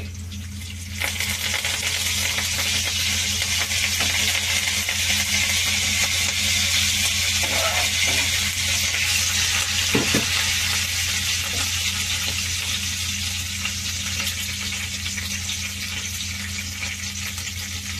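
Whole dried red chillies, garlic and tempering spices fry in hot oil for a lentil dish, giving a steady, loud sizzle with a few soft clinks of stirring partway through.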